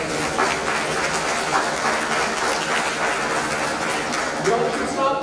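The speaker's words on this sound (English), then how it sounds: "You all should start clapping since they get all three right." An audience at a college quiz grand finale claps steadily for about five seconds, a dense, even burst of applause with a few chuckles. Someone talks over the clapping.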